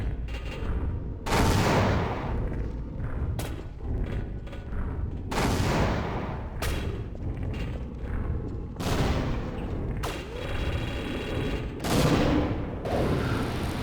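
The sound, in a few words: grenade explosions in the video game Half-Life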